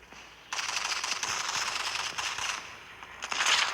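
Rapid automatic gunfire in the mobile shooter Modern Combat 5, a sustained burst of bursts lasting several seconds with a louder flurry near the end, fairly close and without speech.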